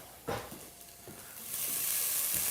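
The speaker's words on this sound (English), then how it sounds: "we have our leeks and garlic in there, and we want to give these two a little golden brown" Leeks and garlic sizzle in a pot, a few soft scraping stirs early on giving way to a steady, bright hiss of frying that strengthens in the second half, close by and without talk.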